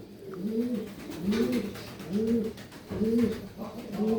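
Pigeons coo repeatedly in soft, rolling phrases close by, a steady rhythm of low throaty calls with faint background noise.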